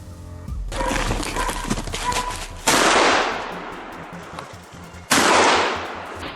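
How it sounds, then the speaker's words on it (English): Gunfire during a wild boar hunt: two sharp, loud shots, each with a long fading echo, over a steady outdoor background rumble. "Only after several follow-up shots did the animal finally collapse for good."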